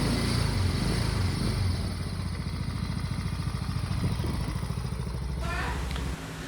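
An upgraded M3 132.6cc motorcycle engine runs quietly and evenly with a steady mechanical patter, then drops off near the end, leaving a lower hum.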